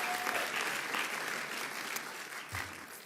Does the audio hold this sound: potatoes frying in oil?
no